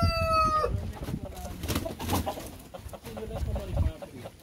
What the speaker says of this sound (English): cock for the black giant.